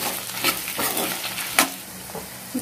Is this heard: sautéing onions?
yes